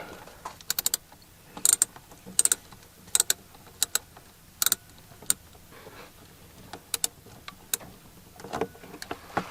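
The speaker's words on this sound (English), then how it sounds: "so I can get the socket on that nut" A socket ratchet works a nut loose on a liftgate power unit, clicking in short irregular bursts of sharp ticks close by, with small metallic handling sounds between them.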